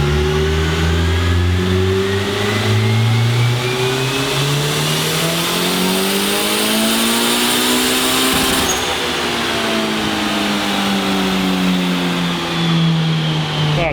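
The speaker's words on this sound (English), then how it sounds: "the motor seems to be handling everything Mike's throwing at it like really well" A built high-compression turbocharged 1.6L Honda engine screams at high revs on a dyno, climbing steadily in pitch, dipping briefly and pulling again, loud and sustained throughout.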